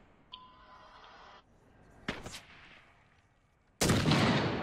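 Video game gunfire comes in a few loud, sharp bursts: a single crack, a brief volley, then a heavy sustained blast near the end, over quiet game ambience.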